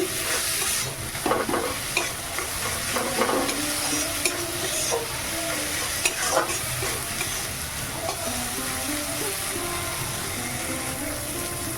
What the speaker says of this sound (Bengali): টমেটোটা দিয়ে দিচ্ছি দিয়ে আর একটু কষিয়ে নিচ্ছি